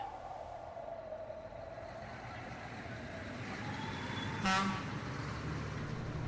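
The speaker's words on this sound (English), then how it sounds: "Sorry if you can hear the cars or whatever" Steady traffic hiss and rumble from outside, with a vehicle passing and a short horn toot near the end, heard through an open window.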